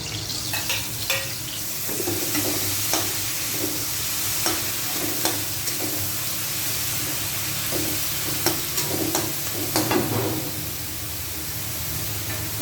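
Fresh string beans sautéing in a hot pan with garlic, onion and pork belly: a constant loud sizzle and hiss broken by repeated stirring scrapes and clicks, close up and without speech.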